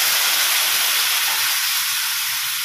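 Water poured into a hot pan of spiced chicken roll filling sets off a loud, steady steam hiss and sizzle that holds at full strength throughout and stays close, with no voices.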